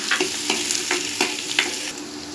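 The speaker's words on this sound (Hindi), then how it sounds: "हम इसमें ये जीरा डाल देंगे और बारीक काट के जो प्याज रखा था ये डाल देते हैं।" Chopped onion and cumin fry in hot oil with a bright, close sizzle, punctuated by five or six rhythmic stirring scrapes from a spoon in the pan, and nobody speaks.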